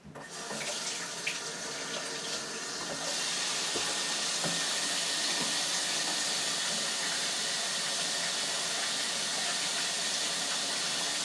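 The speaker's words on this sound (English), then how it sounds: "I'm going to wash my hands" Steady water from a kitchen tap runs while hands are washed at a sink, a continuous close hiss and splash that thickens and grows slightly louder after the first few seconds.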